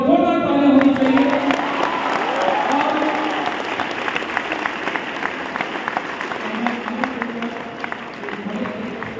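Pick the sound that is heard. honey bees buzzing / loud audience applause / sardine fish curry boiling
loud audience applause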